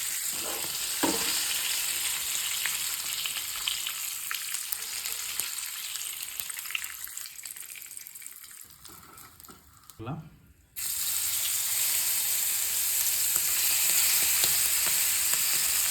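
Squid pieces frying in oil for a squid masala fry, a constant close hiss of sizzling with occasional stirring scrapes, dipping briefly quieter midway before the loud crackle returns at full strength.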